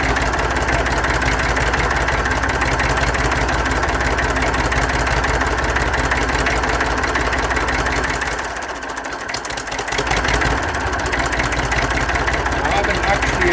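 1962 Fordson Dexta diesel tractor engine idling just after its first start with new injectors, a loud, steady, knocking clatter that dips briefly near the end before resuming its even rhythm.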